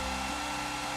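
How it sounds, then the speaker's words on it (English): A hair dryer blows steadily to spread fluid acrylic paint over the sides of a canvas in a Dutch pour, a constant loud whooshing hum close by with nothing else heard. "Now using blow dryer to spread the paint further to cover the sides."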